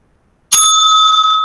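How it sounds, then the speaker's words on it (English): One sharp strike of a debate timekeeper's bell rings out loud and close after brief silence, its bright metallic tone sustaining and slowly fading. "The timekeeper will ring the bell twice at the end of the 7th minute"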